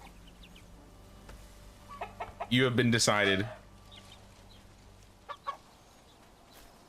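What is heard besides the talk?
chickens clucking in the video game Bellwright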